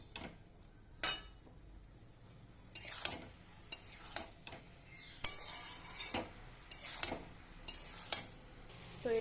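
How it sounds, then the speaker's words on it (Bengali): Food stirred in a frying pan over raised heat, a low sizzle beneath repeated scraping and clinking strokes of a spoon against the metal, coming in irregular bursts close by. "তো এবার আমি ভালোভাবে নেড়ে নেব"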